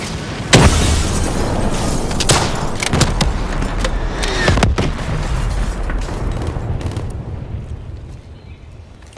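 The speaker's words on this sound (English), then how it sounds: "Incoming grenade!" Grenade blast in an online first-person shooter game: a sharp, heavy boom followed by several more explosive cracks and rumbling bursts over a dense backdrop of battlefield noise, fading somewhat toward the end.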